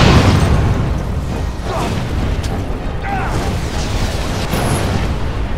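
In the Dragon Age Origins video game, fire ignites a grease trap with a loud, sustained roar and scattered booms, and a voice talks over it.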